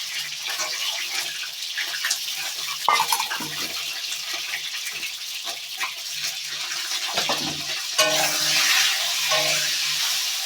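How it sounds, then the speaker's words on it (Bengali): An egg frying in a pan gives a steady sizzle with scattered scraping and stirring clicks, growing brighter and louder near the end, with no talking. "দেখো এখন ডিমটা ভেজে নেবো"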